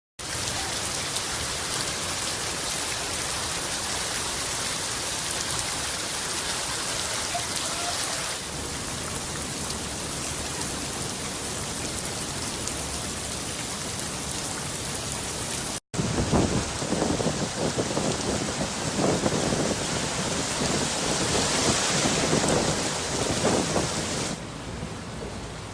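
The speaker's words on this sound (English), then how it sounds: "After a couple hours of non-stop rain," Heavy, steady rain pours on Dauphine Street in New Orleans, a dense close hiss that holds for the whole stretch, then turns rougher and louder partway through as rumbling thunder mixes in, with no voices.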